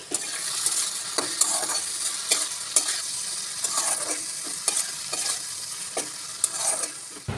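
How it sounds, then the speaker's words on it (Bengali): Onion and capsicum sizzle steadily in a hot pan while a spatula stirs them, scraping and tapping against the pan in a regular rhythm, close up with no talking. "বাকি পেঁয়াজটুকু আমি এখন দিয়ে দিচ্ছি আর ক্যাপসিকাম দিয়ে দিচ্ছি।"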